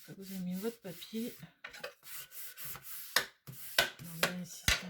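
Glued patterned paper is rubbed firmly onto a card base for a pop-up card, making repeated short scraping strokes in an uneven rhythm, close and fairly crisp.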